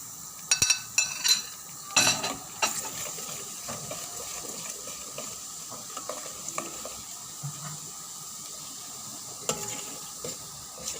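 Semolina is roasted in homemade butter in a pan with a spoon scraping and stirring, making soft sizzling under several sharp metallic clinks near the start and scattered scrapes after, close by and with no talk.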